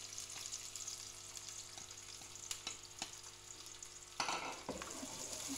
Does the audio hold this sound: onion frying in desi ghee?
yes